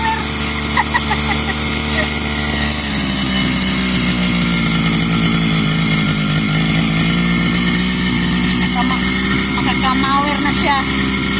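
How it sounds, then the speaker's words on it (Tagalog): A lawn mower's small engine runs steadily and loudly throughout, its pitch dropping slightly partway, with voices talking over the drone. "Maandar na yung mower."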